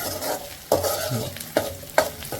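Onions fry in a pan for a dried-fish tamarind curry, a soft steady sizzle broken by a few sharp scrapes of a spoon stirring against the metal, close and fairly quiet.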